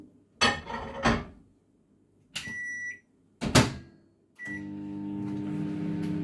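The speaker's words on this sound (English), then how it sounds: "I'm going to put these in the microwave for 3 minutes." A microwave oven cooking sweet potatoes: door clunks and handling knocks, keypad beeps, then the steady hum of the oven starting up and running, close and fairly loud, no speech.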